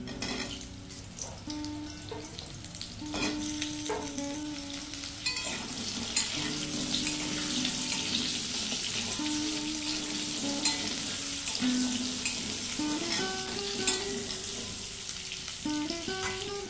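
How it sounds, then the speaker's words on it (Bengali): Potatoes sizzle as they go into hot oil that was used for frying paneer, with a steady crackling fry and occasional stirring scrapes close by. "এই পনির ভাজা তেলেই দিয়ে দেব কিছু আলু।"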